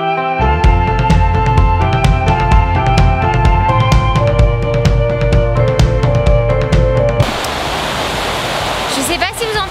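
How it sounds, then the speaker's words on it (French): Steady broadband rushing like heavy rain pours throughout, with music or tonal sounds over it for most of the clip, then the downpour alone at the end. "Je sais pas si vous entendez ce bruit derrière moi, mais à mon avis oui, en fait c'est la pluie."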